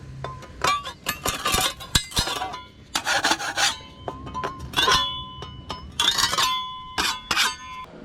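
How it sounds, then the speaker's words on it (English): A tool scrapes loose material out of cracks in a smooth stucco wall, making bursts of close, gritty scratching and rasping with brief metallic clinks between strokes. "what we need to do is try to scrape out anything loose"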